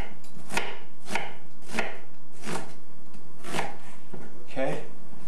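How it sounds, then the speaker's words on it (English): Onions chopped with a knife on a board for shrimp fritters, about nine sharp, close thunks in a fairly even rhythm, with a faint voice near the end. "Cut my onions up."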